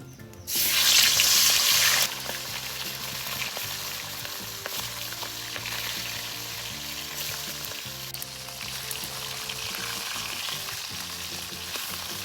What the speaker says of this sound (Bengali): তেল গরম হয়ে গেছে এখন মাছগুলো দিয়ে দেব